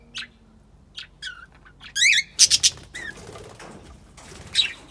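Budgerigars in a cage give bursts of wing flapping and sharp chirps, several quick flutters in succession with scattered tweets between them, fairly close and clear with no talking.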